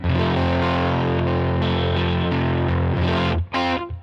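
Electric guitar in the out-of-phase fourth pickup position through a Line 6 HX Stomp amp model, one dense distorted chord held and ringing loud, then a quick final strum.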